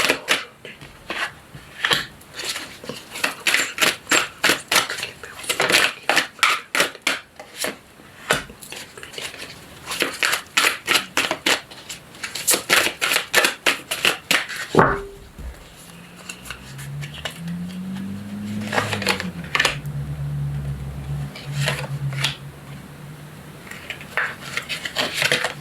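Tarot cards being shuffled and dealt out into a six-card spread, a rapid run of crisp close taps and flicks, followed by quieter handling under a faint sliding tone.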